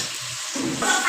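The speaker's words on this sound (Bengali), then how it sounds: "জল দিয়ে দিলাম ডাঁটা তরকারিটা।" Water poured into a pan of vegetable stem curry, a short rushing splash over a soft hiss of cooking that grows louder toward the end, close up, with no one talking.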